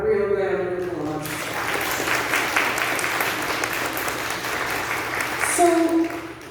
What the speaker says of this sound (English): so please give her a real round of applause